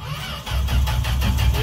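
An old Dodge D100 pickup truck's engine cold-starts on a booster battery. A short cranking whir gives way to a loud, rough low rumble close by, with no speech.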